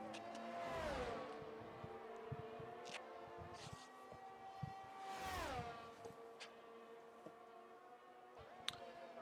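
Simulated McLaren Formula 1 race car engine on the Canadian circuit in F1 22, a high revving whine rising and falling as the car accelerates and shifts, two loud sweeping passes with steady engine drone between.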